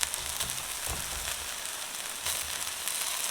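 Okra, potatoes and onions fry in a pan with a steady, close, even sizzle, joined by a few soft stirring bumps, with no voices.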